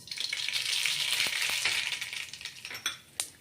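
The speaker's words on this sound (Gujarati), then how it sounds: "તેલ ગરમ થઈ ગયું છે સૌપ્રથમ રાઈ એડ કરશું" Mustard seeds sizzling and crackling in hot oil, a loud steady frying hiss broken by a few sharp pops near the end.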